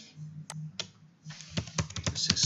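Typing on a computer keyboard, a close, quick run of light key clicks in an uneven rhythm that grows denser toward the end.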